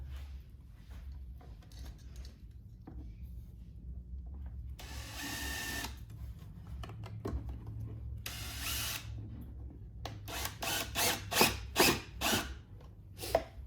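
A power driver runs screws in to mount a motorcycle audio woofer, with short whirring bursts separated by quiet pauses, then a quick series of brief stuttering pulses as the screws are tightened.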